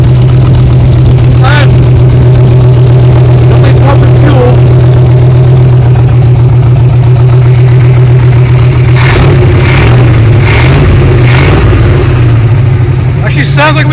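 A 1969 Chevy Custom C10 pickup, recovered from a field and a junkyard with a holed freeze plug, idles loudly and steadily up close, a deep rumbling hum throughout, while people talk over it and a few sharper bursts come late.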